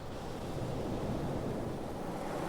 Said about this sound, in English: A gust of wind